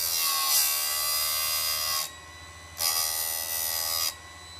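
A Harbor Freight electric chainsaw chain sharpener grinds a chain in two bursts, each a bright, loud grinding whine over a steady motor hum that drops back to idle between passes, with no talk.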